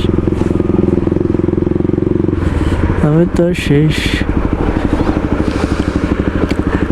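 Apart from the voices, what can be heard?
motorcycle riding through a market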